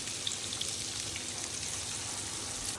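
Crumbed fish sizzling in a little extra virgin olive oil and butter in an electric fry pan, a soft, steady crackle with scattered tiny pops, close but quiet.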